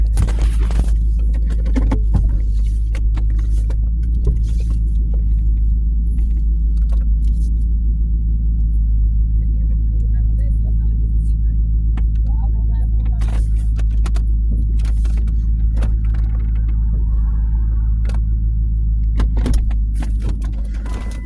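Car engines and exhausts rumbling steadily on a city street, a continuous loud low drone from passing traffic with occasional faint clinks and rattles over the top.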